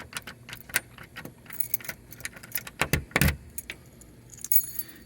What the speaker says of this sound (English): the keys all fit, but none of them turn this lock